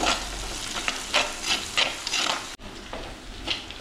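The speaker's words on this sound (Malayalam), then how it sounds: "പെരിഞ്ജീരകം ഇട്ട് നന്നായിട്ട് ഇളക്കി കൊടുക്കാം" Fennel seeds fry and sizzle in a pan for a Kerala-style sardine curry while a spoon stirs them, giving repeated close scraping strokes over a constant hiss.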